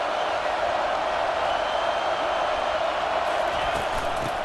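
Stadium crowd roar in an EA Sports College Football game between Oregon and Nebraska, forming a dense, steady wall of noise that holds at an even loudness throughout.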